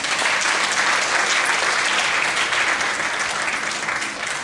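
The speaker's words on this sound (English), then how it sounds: "Let us give all our three sponsors a round of applause." An audience at a political science public lecture applauds the event's sponsors, a loud, thick and steady burst of clapping that carries evenly through and tapers slightly at the end.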